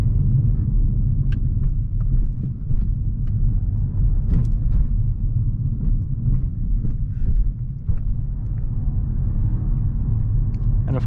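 Inside a 2017 Mazda 3 GT on the road, a low steady rumble of engine and tire noise fills the cabin, fairly quiet overall, with faint scattered clicks and rattles and no one speaking.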